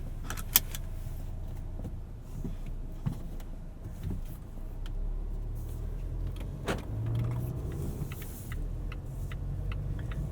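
Inside a 2019 Volvo XC40 T5 AWD R-Design while driving, a steady low engine and road rumble fills the cabin, dotted with faint clicks and light rattles.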